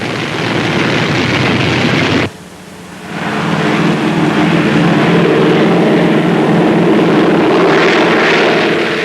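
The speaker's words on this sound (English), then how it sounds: "Four powerful engines lift the Sky Giant aloft." Loud, continuous roar of a four-engine Lockheed C-121 propeller airplane in flight, with a brief dip in volume before the drone returns at full strength.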